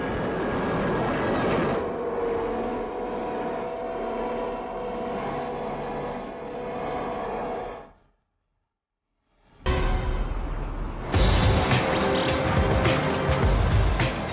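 Heavy engine rumble and rattling of a road train truck hauling 406 tons up a steep gradient, loud and continuous, broken by a brief silence before resuming.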